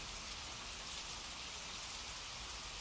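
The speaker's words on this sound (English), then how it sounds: "It's just rain." Rain falls steadily in a dense, even hiss that holds at a constant level throughout, with no voices or other sounds over it.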